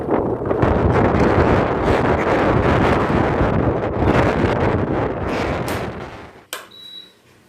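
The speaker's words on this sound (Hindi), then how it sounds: "और इतनी तेज़ हवा चल रही है ना" Loud, steady, cold wind in the Himalayan hills buffets the microphone with a low rumble, then drops away suddenly near the end, leaving a quieter background.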